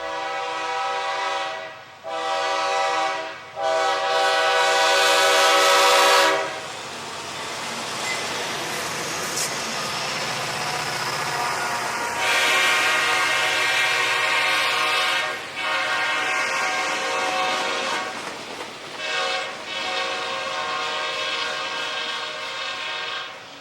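CSX northbound freight Q596 cresting the 0.97% grade at Greenbrier on the Henderson Sub, loud harmonic horn blasts in several bursts over a heavy rolling rumble of locomotives and cars.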